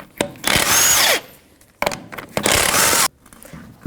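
Power tool whirring in two loud bursts of about a second each, close by, as a 19mm socket removes the wheel on a 1997-04 Dodge Dakota.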